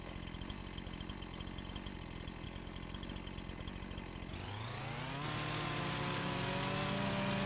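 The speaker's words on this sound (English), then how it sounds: "Don't chainsaw at night." A chainsaw in a farming game at night runs with a rough, rattling idle, then revs up into a loud, rising whine that holds steady, with no voices.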